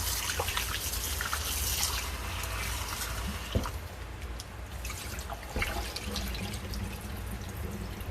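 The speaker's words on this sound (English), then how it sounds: "Drain the water out." Cold rinse water pours and trickles steadily from a cooking pot into a drain, a continuous splashing flow with an occasional clank of metal.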